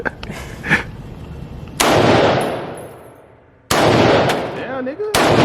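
AR-10 rifle shots at an outdoor shooting range: two sharp, loud reports, each followed by a long decaying ring, with a few fainter pops before them and people talking in between.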